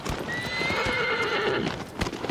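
A horse in the Shadow of the Colossus video game whinnies in a rising neigh over the steady clip-clop of galloping hooves, loud and close, with no talking.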